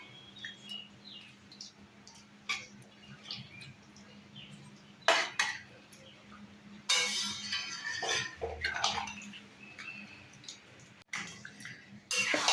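Water poured into a pan of simmering prawn and bitter gourd curry, a splashing, hissing rush that rises midway and fades, with scattered light clinks of utensils around it.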